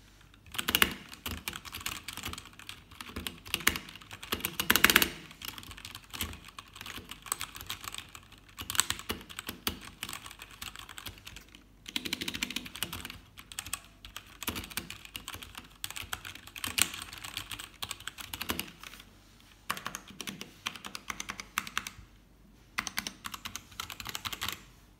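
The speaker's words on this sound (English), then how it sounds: "So for the sound test, I'll just be showing you what it sounds like." Typing on an Ajazz 75% mechanical keyboard, a steady run of close, crisp key clacks with brief pauses and bursts throughout, no voices.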